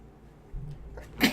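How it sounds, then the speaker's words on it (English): A single person's sneeze, a brief low inhale followed by a sharp, breathy burst at the end, close and moderately loud, with no talk around it. "Sorry, that was a sneeze."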